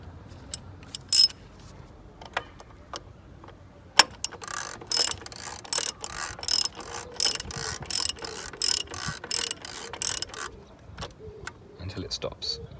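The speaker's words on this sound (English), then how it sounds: "Tighten it with the wrench." Ratchet wrench tightening the oil filter cap on an Audi S3 8V engine: a few isolated clicks, then a dense run of sharp, close ratchet clicks in rhythmic strokes that trails off into scattered taps.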